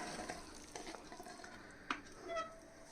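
Mushroom biryani rice is stirred in a pot, soft scraping and shuffling of a spoon through the grains over a light sizzle, with a few sharper clinks against the pot, close and fairly quiet.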